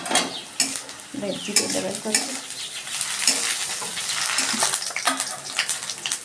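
Three green chillies hit a hot pan with a busy, crackling sizzle that runs throughout, punctuated by sharp spoon-against-pan stirring clatters, close and steady.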